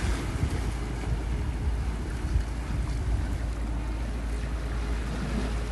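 Steady wind gusts roar across an open beach, buffeting the microphone with a low, continuous rumble and the faint wash of surf beneath, loud and unbroken throughout with no voices.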